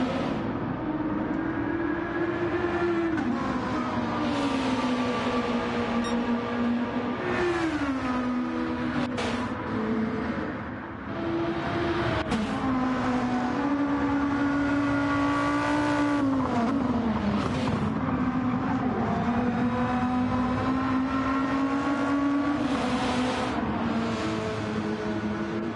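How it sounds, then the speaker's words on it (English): An Audi RS5 race car circles the Road Atlanta track during a two-hour charity endurance race, its loud engine droning and shifting pitch up and down through gear changes as it passes close by, sustained throughout. "Hunting down Christian in the Audi RS5"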